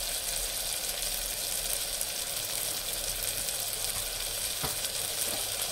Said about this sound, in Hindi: सारी चीज़ों को अच्छे से मिक्स करेंगे।